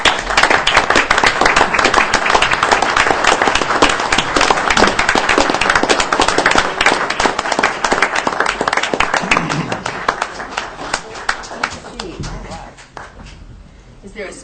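A room full of people gives volunteers in matching shirts a loud round of applause at a city council proclamation meeting, with dense clapping that gradually thins and fades while some voices murmur.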